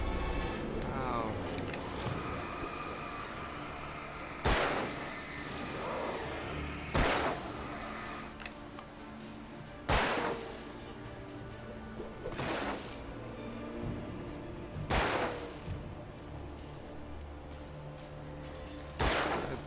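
Gunfire from the video game Alan Wake: loud single shots fired at steady intervals of a few seconds over a dense, rumbling game soundscape, with voices talking throughout.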